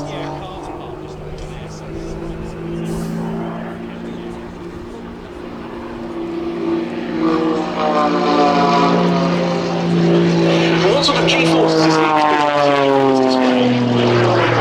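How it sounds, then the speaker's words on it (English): A loud roar and whine from a Pitts S-2S aerobatic biplane with jet engines, steady and rising in pitch toward the end, while a person talks over the noise at an air show. "Those jet engines are using 60 litres of fuel in the next 10 minutes."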